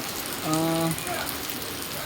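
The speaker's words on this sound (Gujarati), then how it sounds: "સતત રાત્રે નવ વાગ્યાથી આવો જ વરસાદ છે" Steady rain falls through the night over a market in Virpur, a continuous even hiss of drops on surfaces, with a brief tonal hum overlapping it partway through and no voices.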